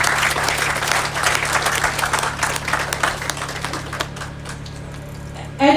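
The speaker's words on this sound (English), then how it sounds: "I think we give them a round of applause," Graduation audience applauding the graduates, a dense crowd of clapping hands, loud and sustained, fading away over the last couple of seconds before a voice starts.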